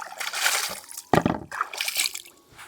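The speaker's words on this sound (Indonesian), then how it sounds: "Langsung kita cuci di sungai." River water splashes and trickles as freshly dug chives with long roots are rinsed in the stream by hand, uneven sloshing bursts with one sharp splash near the middle, close to the microphone.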